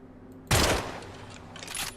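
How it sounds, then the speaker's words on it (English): A sudden loud burst of video-game gunfire erupts after a quiet start, a dense rattling volley that decays into scattered shots and background noise. "Who's shooting?"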